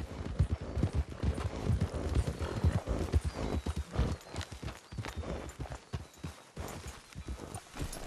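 Horses in Red Dead Redemption 2 clop steadily in a close, busy rhythm of hooves, with a brief whinny and the shuffle of movement around them, no talking.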